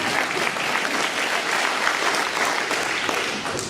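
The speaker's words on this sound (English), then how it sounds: "You can applaud, it's okay." A political campaign audience applauds steadily and loudly for nearly four seconds, the dense clapping holding even before easing slightly at the end.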